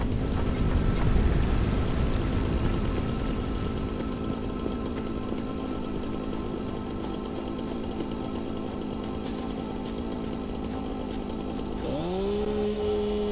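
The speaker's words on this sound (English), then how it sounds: "Oh, there's a chainsaw." A chainsaw in the Satisfactory video game runs steadily with a buzzing, rasping engine drone for about twelve seconds, then revs up with a rising whine near the end; no talking over it.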